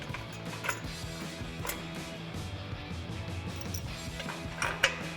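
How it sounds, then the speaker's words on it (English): Nut and washer being threaded onto the bottom stud of an Eibach Pro-Truck coil-over on a 2015-2020 Ford F-150, faint close metallic clinks and scraping ticks in an uneven run, no voices. "we'll grab our washer and nut and thread that onto the bottom of our stud"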